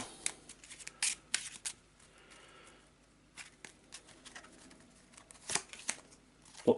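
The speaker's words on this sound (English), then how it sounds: "So let's give him a quick shuffle" Quick shuffle of a deck of Eldritch Horror board game cards, giving short, soft riffling bursts and light card snaps at close range in a quiet room, with no talking.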